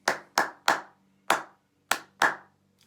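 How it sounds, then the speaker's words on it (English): One person claps a rhythm in a music class, six crisp, close claps grouped as three quick ones, then a single clap, then a final pair, with short silences between. "if we were to clap it, it would be"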